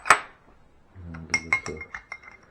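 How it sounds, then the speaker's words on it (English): A yeast mixture is stirred in a small container for dandelion wine, with a sharp clink at the start followed by a short run of light ringing taps and scrapes against the container's sides. "give this a stir."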